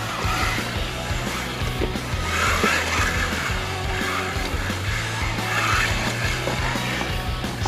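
An MJX Hyper Go 14303 RC car drifts close by, its tires squealing and skidding in repeated bursts over a constant whining motor.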